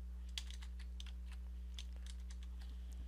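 Fingers typing on a computer keyboard while entering text into an Excel spreadsheet, a quick irregular run of light key clicks over a steady low electrical hum, with no talk.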